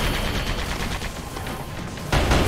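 Game gunfire in the platformer Sandland: a dense, continuous rattle of rapid shots, fairly loud and close, with a heavier burst near the end.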